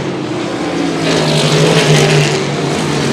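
Silver Crown race cars roar past at Du Quoin in a battle for the lead into turn one, a loud engine drone swelling and fading as the pack sweeps by.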